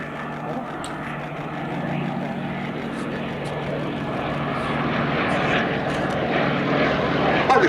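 Westland Lysander propeller aircraft drone past at the Duxford Battle of Britain airshow, a steady engine roar that swells gradually louder as they turn, with faint voices and crowd noise underneath.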